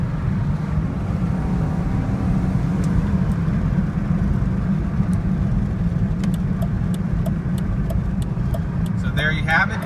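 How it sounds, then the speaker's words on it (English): A BMW car accelerates, giving a steady, loud, low engine roar that continues throughout, with a few faint high ticks near the end. "Acceleration."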